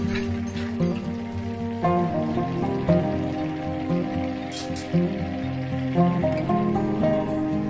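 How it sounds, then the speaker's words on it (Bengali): A spatula stirs simmering banana stem and snail curry in a pan: a steady bubbling, sizzling wash runs throughout, broken by soft scraping strokes at irregular intervals. "মাঝে মধ্যে খুন্তি দিয়ে এভাবে নাড়িয়ে দিতে হবে"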